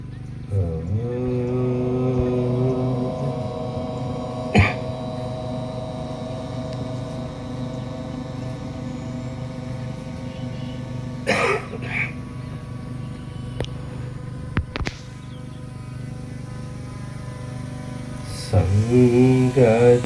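A group chants a sustained, droning Om together at the opening of a yoga session at a central yoga and naturopathy centre in Nagamangala, steady and resonant throughout with a few brief clicks and a swell near the end.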